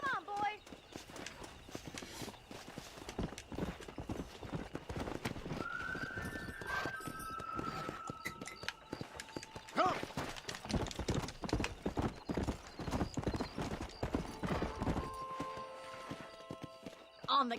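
Horse hooves clip-clopping at a gallop in the video game Red Dead Redemption, a steady rapid rhythm of hoofbeats with a whinny, game music and voices talking over it.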